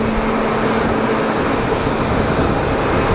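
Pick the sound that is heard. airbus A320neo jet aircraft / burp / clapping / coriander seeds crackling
airbus A320neo jet aircraft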